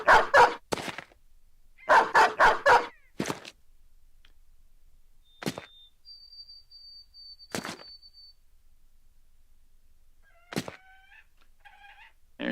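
War dogs barking in the video game Battle Brothers: a quick cluster of sharp barks, then a second burst, followed by a few isolated yelps spaced out among faint whistling tones and game effects.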